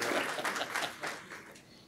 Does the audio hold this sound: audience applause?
yes